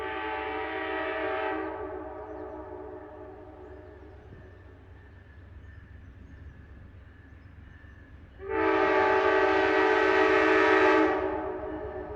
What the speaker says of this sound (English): There's just something special about a train horn echoing through a valley.